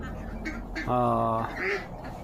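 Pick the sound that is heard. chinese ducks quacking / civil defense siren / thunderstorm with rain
chinese ducks quacking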